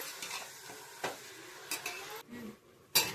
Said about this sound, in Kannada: ಇವಾಗ ಮಟನ್ ಹಾಕಿದ್ದೀನಿ. ನಾನು ತಗೊಂಡಿರೋ ಮಟನ್ ಇವಾಗ ಚೆನ್ನಾಗಿ ಇದನ್ನ ಮಿಕ್ಸ್ ಮಾಡೋಣ.